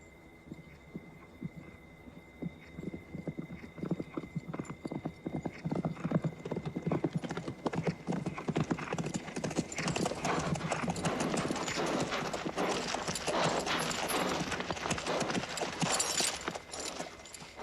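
Hundreds of horses' hooves clip-clop on hard ground with an army, starting sparse and building into a dense, loud clatter of a large group passing close by.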